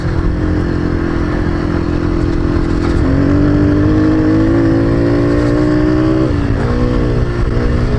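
A Yamaha TTR 125 dirt bike with new chain, new tires and one-tooth-up countershaft gearing, its engine droning loudly while riding and climbing in pitch as it revs through a long pull before easing off near the end.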